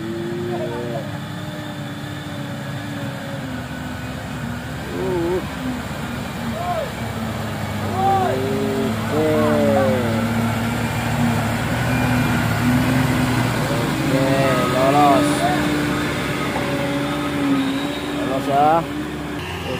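Heavy Fuso and Hino 500 trucks rev their engines, the pitch sweeping up and down in repeated surges over a steady mechanical drone, with voices talking in the background.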